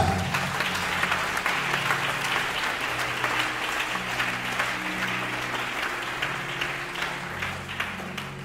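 A church congregation applauds in steady, dense clapping that carries on without a break for the whole stretch, filling the room at an even level.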